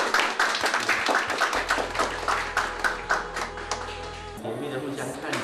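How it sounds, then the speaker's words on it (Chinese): Wedding guests clap during the bride-fetching celebration, a scattered burst of applause mixed with chatter and talking voices, with a steady hum running underneath for a few seconds. "大家鼓掌"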